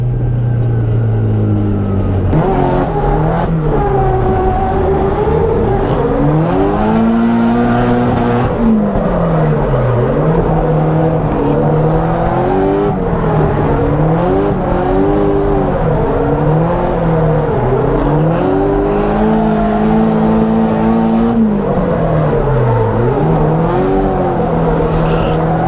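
In a racing video game, a Nismo 370Z engine drones and revs on a small track, its pitch climbing and dropping repeatedly through gear changes, loud and continuous across the whole stretch.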